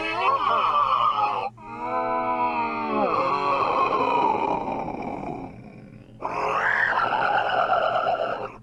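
The Pentagon Thief boss from Black Ops zombies gives off distorted, inhuman growls and wheezing roars. Three long, loud bursts come in close succession, separated by brief pauses, with no talk over them.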